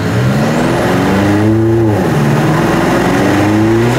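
Car pulling away and accelerating hard: a loud, close engine whose pitch climbs steadily, dips briefly at a gear change, then rises again.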